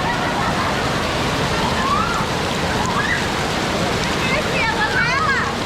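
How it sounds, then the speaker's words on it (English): Steady rain pours onto a roof in Thailand, a dense, even hiss filling the whole stretch, with faint voices in the background. "Look at the rain on the roof over there with all the wires."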